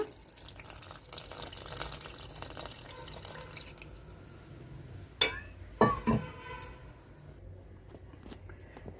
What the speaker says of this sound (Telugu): ఇప్పుడు చింతపండు పులుసు తీసి పెట్టాను వేసుకుందాము